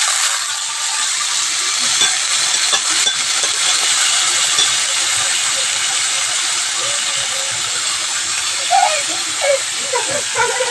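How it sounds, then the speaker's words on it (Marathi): Finely chopped, washed potatoes steam and sizzle in a pan, a loud, continuous close hiss with small crackles and pops throughout. "वाफवून घेऊया बटाट्याला."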